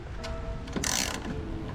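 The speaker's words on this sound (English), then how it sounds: "Go turn the wrench." A wrench ratchets during a car stereo double-DIN radio installation, giving a quick burst of mechanical clicks midway, close and moderately loud, with a hum underneath.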